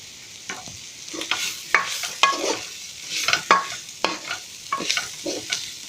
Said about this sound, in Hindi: जो हमने अंडा फ्राई किया था अब हम वो भी डाल देंगे और इसे मिक्स कर लेंगे।